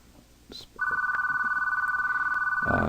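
A telephone rings with a steady, loud electronic tone that starts abruptly and holds continuously for about two seconds, ending as a burst of broadband noise cuts in; no one speaks.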